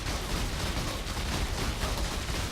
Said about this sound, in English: Don't want to stand in corpse explosions.